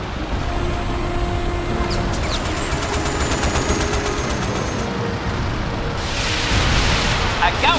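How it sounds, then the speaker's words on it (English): Dense, continuous battle noise from the World War II flight game Blazing Angels: loud mortar fire, booms and rapid gunfire bursts under a constant roar, with a brighter burst of noise near the end. "We're taking mortar fire!"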